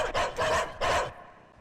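A dog in a comedy film scene gives three quick, sharp barks in a row, close and fairly loud, followed by a brief quiet tail.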